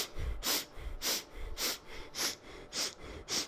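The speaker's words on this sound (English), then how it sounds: "You're sniffing the air in and just letting the exhale happen, and it's rhythmic." Breath of fire, rapid rhythmic kundalini breathing through the nose, comes as six evenly spaced, sharp nasal huffs about half a second apart, close and fairly soft, with no talk.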